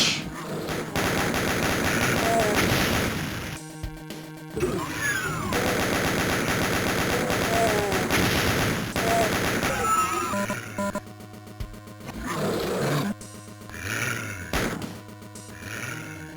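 Gunfire from the Nintendo port of the DOOM video game: loud, rapid bursts of machine-gun and gunshot fire with roars and grunts, breaking off in short pauses and then resuming.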